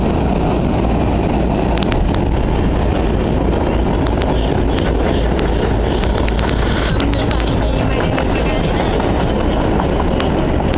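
A Pittsburgh river ferry produces a loud, continuous low rumble that fills the whole stretch, with scattered clicks and knocks on top.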